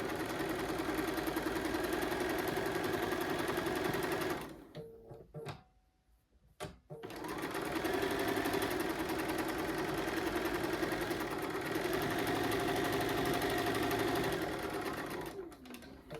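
A sewing machine stitches quilt block fabric in a steady, close whir. It stops briefly partway through, then runs again at the same even pace.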